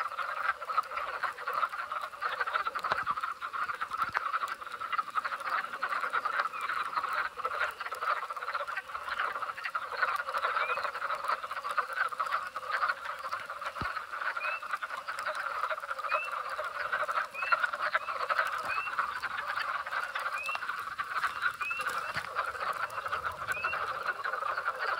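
Hundreds of wood frogs call at a breeding pond at night in western Pennsylvania, a dense, continuous chorus of clucking croaks that holds steady throughout, with no voices.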